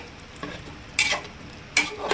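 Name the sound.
stirring vegetables and spices together in a cooker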